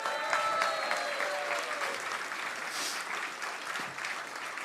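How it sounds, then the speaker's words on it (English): Applause from the crowd at the CKDCF Friday Night Festival, live music night, a dense burst of clapping that stays steady and moderately close for several seconds, with faint voices mixed in. "Take your applause, girl."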